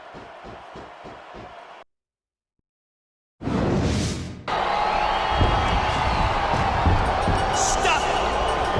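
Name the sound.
crowd cheering in WWE SmackDown vs Raw 2006 video game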